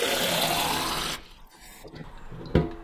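Water pours loudly into the water tank of a Bosch Tassimo My Way 2 coffee machine for about a second, then stops, leaving quiet handling noises and a clunk.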